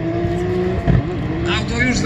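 A drift car sliding through a corner at Autodrom Jastrząb during Puchar Toru Jastrząb 2020, its engine droning steadily with a brief louder swell midway, mixed with a commentator talking over it.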